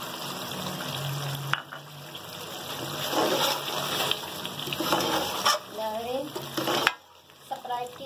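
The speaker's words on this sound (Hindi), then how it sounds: "बस इनको हम भून के चूल्हा बंद कर लेंगे।" Spices and chicken liver fry and get stirred in a pan, with steady close sizzling and scraping throughout, broken by brief knocks and a short pause near the end.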